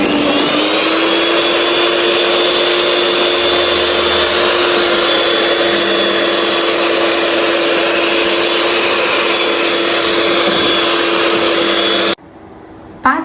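Electric mixer steadily beating melted butter into eggs and sugar for a honey and walnut revani cake batter, a loud continuous motor whine that runs unbroken before cutting off abruptly near the end.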